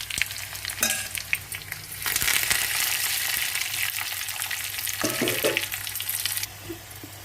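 Tempering of fenugreek, cumin, mustard seeds and chilli frying in hot oil for sambar, a steady close sizzle with soft crackles, swelling louder midway and easing near the end.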